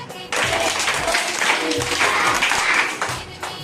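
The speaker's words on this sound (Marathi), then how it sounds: "मी जेवढे अंक बोलेल तेवढ्याच टाळ्या आल्या पाहिजे" Children clap together in a counted burst, several quick claps in a row from a group at close range, with a brief murmur of voices around them.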